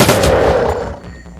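Gunfire from Shadowrun: Dragonfall erupts as a loud burst of shots that rumbles and fades over a second and a half, with no talk.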